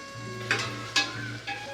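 Mint leaves fry and sizzle in a pan of oil for chicken biryani, a steady close crackle broken by three brief scraping stirs, with no voices.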